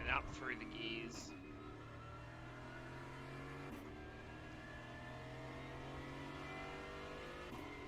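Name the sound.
GT4 race car engine accelerating, iRacing video game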